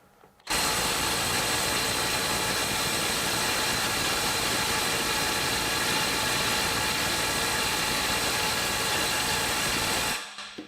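A cordless impact wrench set to 400 foot-pounds runs loud and continuous for about ten seconds, a dense mechanical hammering roar that starts abruptly and cuts off sharply. No voices are heard.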